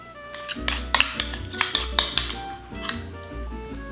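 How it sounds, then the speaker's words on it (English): A spoon stirs stone ground and Dijon mustard together in a bowl, making repeated close clinks and taps against the bowl at an uneven, brisk rhythm over a faint low hum. "I've got 2 tablespoons of stone ground mustard, 1 tablespoon of Dijon mustard, and we're simply going to mix these together"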